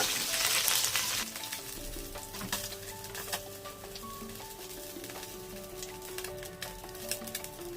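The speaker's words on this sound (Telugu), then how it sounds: "ఇప్పుడు మిగతావి కూడా ఫ్రై చేసుకుందాము" Fish frying in hot oil at home gives a steady crackling sizzle with sharp pops and spatters, close and fairly quiet, with occasional clinks of a utensil.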